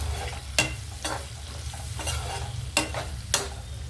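Tomato pieces for an eggplant and drumstick curry fry steadily in a pan, a constant close sizzle broken by several sharp scraping stirs at irregular intervals.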